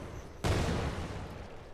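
A self-destructing seeker mine in an Unreal Engine 4 game explodes as one sudden loud broadband blast, then trails off in a long rumbling decay.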